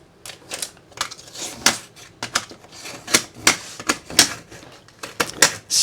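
Staples pulled one after another from a print frame give a quick series of sharp metallic snaps and clicks, about a dozen in under six seconds, close and fairly loud.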